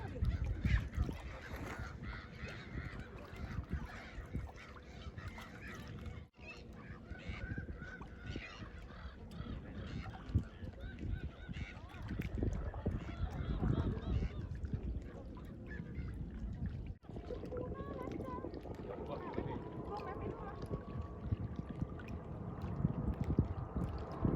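A flock of flamingos honks and gabbles at a lagoon in San Pedro del Pinatar, Spain. The calls are continuous and overlapping, mid-distance and fairly faint, over an outdoor wash of wind and ambient noise.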